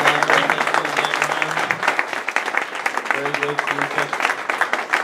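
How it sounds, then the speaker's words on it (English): A round of applause for Ron Flannery at a Darwin Day talk, steady dense clapping from an audience with voices mixed in throughout. "One last big round of applause for Ron"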